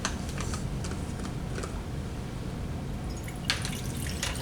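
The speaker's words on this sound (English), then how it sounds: "I'm going to put about 250 mils of water approximately into this" Water pours into a 400 ml glass beaker, a run of small splashes and drips that builds near the end, close and moderately quiet.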